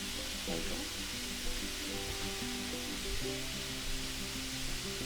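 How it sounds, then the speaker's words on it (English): Broccoli and chicken sauté together in a pan, giving a steady, soft sizzle that runs throughout, with a few light clinks of utensils against the pan. "we're just going to let this saute for a few minutes until it all comes together"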